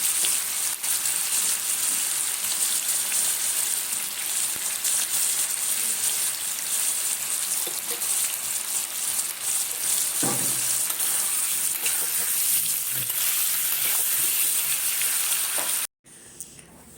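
Continuous dense sizzling of potatoes frying in a pan, close and steady for a long stretch, with occasional clinks of stirring.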